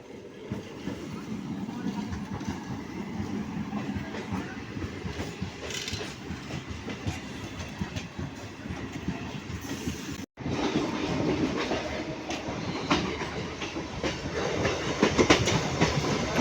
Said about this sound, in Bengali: তো বন্ধুরা ঢুকছে ডাউন শান্তিপুর শিয়ালদা লোকাল